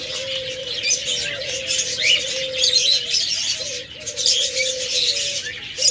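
Diamond doves perch in nesting pots, giving soft repeated coos in a steady rhythm, close by, while sharper chirps and twitters from other small birds fill the background throughout.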